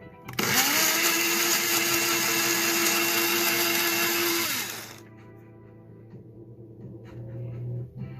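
A blender grinds dehydrated onion into powder with a loud, steady whirring roar for about four seconds, then cuts off, leaving a quieter hum and faint rattling.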